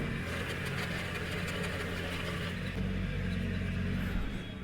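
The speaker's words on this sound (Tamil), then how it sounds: "ஏதோ ரொட்டேட்டரில் டிஃப்ரெண்ட்டாக சத்தம் வருது" A Massey Ferguson mini tractor runs with its rotavator attached, giving off a steady close engine drone and a low rumbling churn, with an odd grinding tone from the rotavator running throughout without a break.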